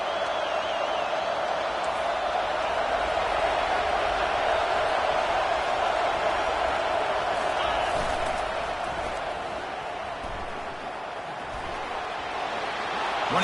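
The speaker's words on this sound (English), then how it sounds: "Listen to the crowd energy here in the early going" A stadium crowd roars and cheers at an early Southern Branch of the University of California football game. The broad, sustained crowd noise swells and eases slightly over time.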